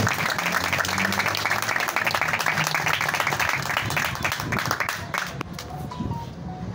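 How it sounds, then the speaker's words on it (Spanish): An audience at a street-naming ceremony applauds a municipal official, a dense burst of many hands clapping that gradually thins out, with a tonal hum and some voices running beneath it. "Un fuerte aplauso para él."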